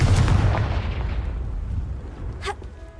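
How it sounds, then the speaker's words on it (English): A Confringo blasting spell in the Hogwarts Legacy video game erupts as a single loud, close boom that decays into a rumbling tail, followed by a brief bright magical chime. "Confringo!"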